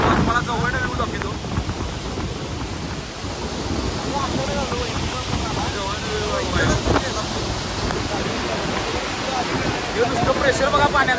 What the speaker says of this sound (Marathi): प्रेशर बघा पाण्याचा केवढा आहे ते.